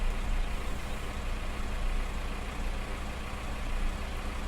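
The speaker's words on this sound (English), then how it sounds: "we just don't have to listen to this tractor. Because it is quite loud" A loud tractor engine in the Farming Simulator video game on Willow Tree Farm runs with a steady, heavy low rumble, close and unbroken from start to finish, with no talking.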